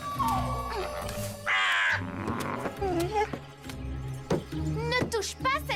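Crow in an animated cartoon caws harshly several times as it harasses a coyote, mixed with growls and other animal noises and spoken voices.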